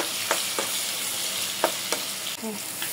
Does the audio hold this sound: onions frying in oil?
yes